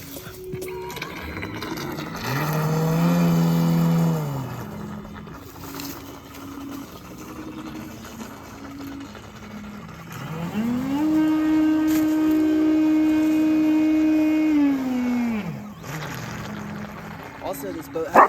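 A small 3D printed model boat runs on a pond reservoir, its motor whining in a steady tone that rises and falls in pitch across two long passes, fairly close and loud, with occasional voices in the background.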